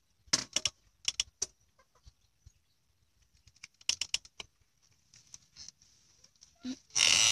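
A chicken clucks near a baby at home: clusters of sharp, clipped clucks come in quick bursts separated by quiet gaps, with a louder rustle at the end.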